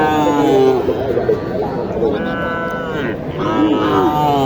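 Loud, close cattle moos, several long drawn-out calls in a row, over a murmur of background voices.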